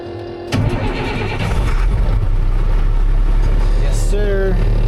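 A box truck's engine cranks and catches, then settles into a loud, steady, rumbling idle close by, with a brief whine near the end.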